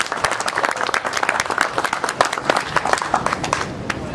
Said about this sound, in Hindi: भरपूर तालियां महबूब साहब भाई।